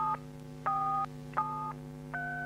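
Touch-tone keypad beeps as a four-digit password is keyed into a TA2000 security alarm over the telephone: four steady dual-tone presses in an even rhythm, each about half a second long, clear and close over a faint line hum.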